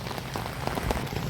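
Heavy rain pours steadily onto surfaces at a muddy rural home, a dense, continuous hiss with scattered louder drops and no voices.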